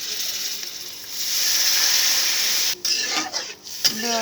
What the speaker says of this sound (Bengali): মশলাটাকে আমি সুন্দরভাবে একটু হালকাভাবে ভেজে নিচ্ছি